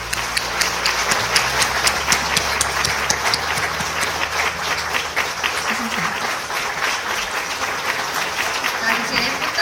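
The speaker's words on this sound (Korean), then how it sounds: "크게 박수 한번 드리겠습니다" Applause fills a hall at an honorary doctorate ceremony, steady and sustained clapping from a sizable audience, with a voice briefly speaking over it.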